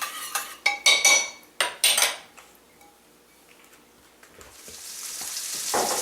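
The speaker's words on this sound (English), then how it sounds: "The andouille I made the other day is simmering here in my pot, and I'm just browning it up" Homemade andouille sausage browning in a pot, with several sharp metal utensil clinks and scrapes against the pot early on, then a soft steady sizzle rising toward the end.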